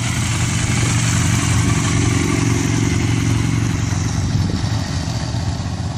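A Ducati Scrambler motorcycle engine runs at a steady low rumble during riding practice, holding a loud, close, even drone with no talk over it.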